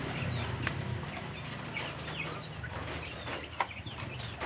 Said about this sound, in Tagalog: Unahin natin pa kainin yung ama ng mga alaga kong manok.